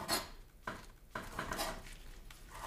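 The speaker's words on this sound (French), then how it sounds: "on coupe le poireau, donc en petites lamelles" Knife cutting a leek into thin strips on a board, a few close, crisp chopping strokes with brief pauses between them, no talking.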